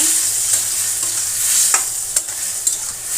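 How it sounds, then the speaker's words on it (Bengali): Vegetables and spices sauté in a pan with a constant close sizzle and occasional scraping strokes of a spoon, with no talking. "এখন দেখতেই পাচ্ছেন আমাদের সবজিটা ভালো করে এভাবে কষিয়ে নেব।"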